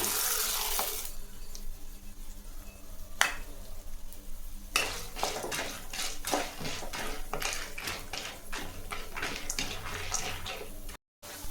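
Chana dal frying in hot oil for temple-style puliyodharai, a steady sizzle broken by a run of sharp, rapid crackles and spatters, close and fairly loud, with brief clinks of stirring.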